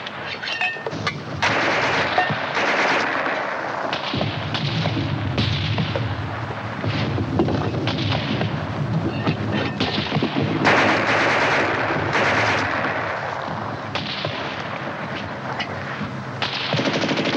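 War-film battle din from 1951: sustained mortar and gunfire, with dense rapid shots and booms layered into a loud, continuous roar and no clear speech.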